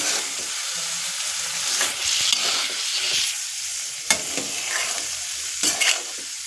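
Cluster beans being stirred into a hot pan, a close sizzle broken by repeated scraping and clacking of a spoon against the pan as they are mixed.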